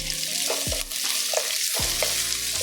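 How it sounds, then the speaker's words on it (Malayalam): Shallots and green chillies frying in hot oil for a coconut-milk snakehead fish curry, a steady loud sizzle with a couple of stirring scrapes, no voices. "ഇപ്പോൾ നമ്മൾ ചെറുള്ളി ചേർത്ത് കേട്ടോ"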